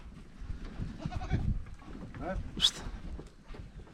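Breeding goat kids bleat in short, high calls amid background chatter and farmyard bustle while being released into a flock, one sharper cry standing out near the end.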